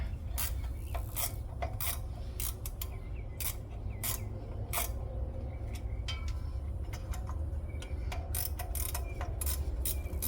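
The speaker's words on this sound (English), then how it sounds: "Nope, gotta do it with a wrench, of course." A wrench turns a bolt on the fan of a classic truck in a tight engine bay, giving irregular close metallic clicks and scrapes over a low background hum.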